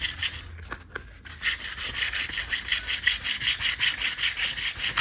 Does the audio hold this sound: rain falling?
no